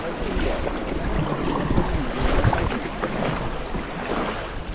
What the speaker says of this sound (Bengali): এই যে ভেসে বেড়াচ্ছি জলের বুকে